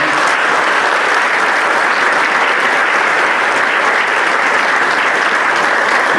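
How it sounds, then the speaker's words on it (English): Sustained, loud applause from a conference audience honors a panel at an employability summit, a thick, even wash of many hands clapping that runs unbroken throughout. "Would you all give these folks a great round of applause?"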